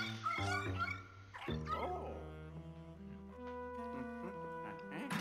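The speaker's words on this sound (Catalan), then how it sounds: "Aquí veiem el gos, que això s'ha vist als tots els trailers del videojoc." Dog barking in Luigi's Mansion 3 on Nintendo Switch, a few close yips and barks over steady layered game music and effects.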